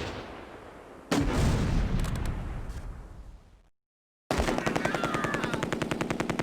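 Gunfire in the Close Combat: A Bridge Too Far war game, dense rapid machine-gun bursts that cut out into a brief silence, then resume as a steady rattling volley, loud and close.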